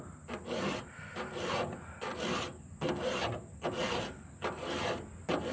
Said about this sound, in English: You just keep on sharpening.